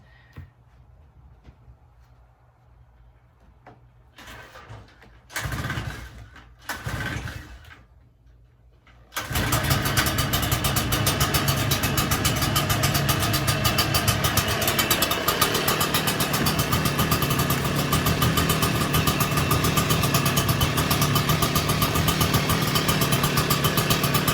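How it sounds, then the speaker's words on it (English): A gas leaf blower gets a few short pull-start attempts with quiet gaps between them, then catches and runs at a loud, steady, buzzing idle that continues to the end, close by with no talking. "Once this blower is started, you want to push that choke"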